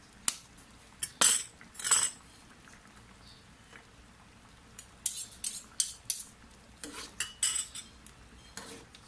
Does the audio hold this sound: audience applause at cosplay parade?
no